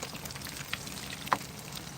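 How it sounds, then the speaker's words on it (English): Fish fries in oil outdoors over an open wood fire in Atlanta, Georgia, giving a soft continuous sizzle with a few sharp pops and crackles, fairly quiet and without voices. "Outdoor cooking, frying"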